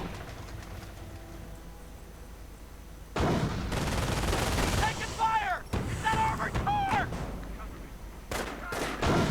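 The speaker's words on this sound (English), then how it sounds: "More armored cars, more anti-tank gunfire." Loud bursts of anti-tank gunfire in a strategy video game erupt after a quiet stretch, heavy booming shots repeating in clusters, with whistling tones mixed in over the din.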